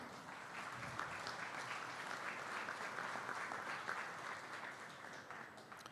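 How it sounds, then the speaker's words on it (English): A large crowd claps steadily and loudly at a state fair Holstein cow show, the dense applause holding without a break for the whole stretch. "let's give them one more big round of applause"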